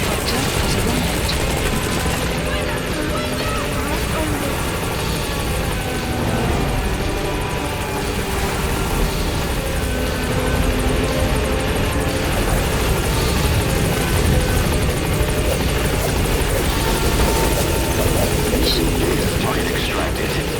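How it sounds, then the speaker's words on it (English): Continuous loud support helicopter rotor thrum and engine roar in Metal Gear Solid V: The Phantom Pain, steady throughout, with game voices speaking over it. "Support helicopter has arrived."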